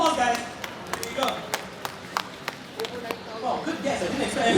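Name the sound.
audience applause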